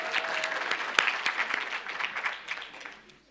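Audience applause fills a summit hall on antitrust policy, a dense, steady patter of many hands at moderate distance that gradually thins and fades toward the end.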